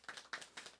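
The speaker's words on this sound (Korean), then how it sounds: "박수 한번 해주세요." A small group claps hands at a church Bible study gathering, a brief burst of quick, uneven claps that fades within a second.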